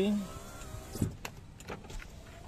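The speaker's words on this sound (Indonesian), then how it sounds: "Kalau ini untuk power window-nya masih jadi." Power window motor of a Great Corolla sedan running briefly, a short whirring hum near the car, with a voice talking over it.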